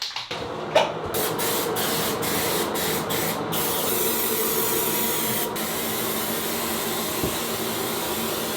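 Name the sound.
spraying KILZ primer from a spray can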